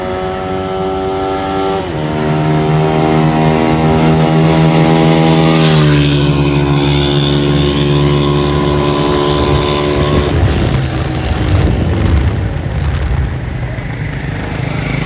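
A 125cc motorcycle accelerates hard from a standstill to 100 in a speed test, the engine note climbing loudly through several gear changes, dropping in pitch at each shift before rising again, close and continuous.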